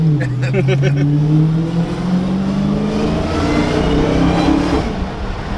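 A 2020 Dodge Charger Daytona Hellcat engine revs and accelerates hard, a loud deep roar rising steadily in pitch after a few quick blips, heard close throughout.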